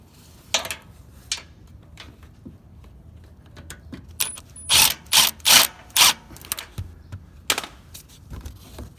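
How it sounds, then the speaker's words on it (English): A ratchet with a 7mm socket clicks in short bursts loosening the turbocharger hose clamp through the wheel well of a Ford F-150 3.5L EcoBoost, sharp close metallic ratcheting with scattered clinks between bursts. "we're going to have to loosen the hose clamp on the turbocharger going through the wheel well using a 7mm socket"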